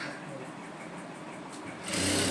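A sewing machine stitches piping onto a blouse back neck, a faint steady whir that grows louder and faster toward the end, with no talk over it.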